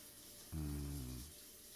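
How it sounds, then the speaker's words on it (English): Shower water running in the guest bathroom in the game Scarlet Hollow, a low, steady gush that starts abruptly, holds for under a second and cuts off, faint and alone. "You step into the guest bathroom and take a shower."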